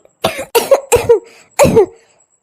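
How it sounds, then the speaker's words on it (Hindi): A mother coughs four times in quick, harsh bursts, close and loud, with a short pause before the last cough. "आपको खांसी क्यों आने लगी?"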